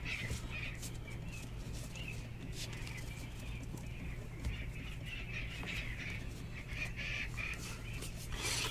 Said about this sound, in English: it's the birds